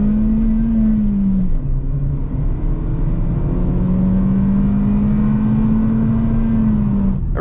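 A 2024 Kia Picanto GT-Line with a manual gearbox and a 1.25 litre four-cylinder engine pulls hard from inside the cabin, its engine drone rising in pitch, dipping at a gear change, then climbing again, loud and steady with no talking.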